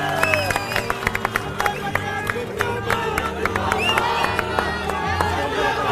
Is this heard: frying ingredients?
no